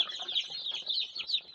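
Chicks chirp in rapid, high-pitched peeps during chick sexing, a string of thin, overlapping cheeps that are close and fairly quiet, with no voices over them.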